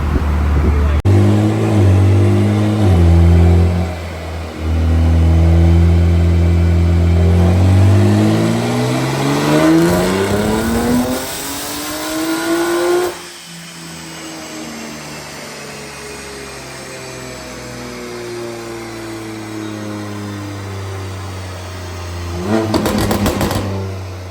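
A BMW G80 M3 with an ECU unlock makes a loud dyno pull, its engine note climbing steadily in pitch for about twelve seconds before dropping off and settling to a lower running sound, with a brief burst near the end.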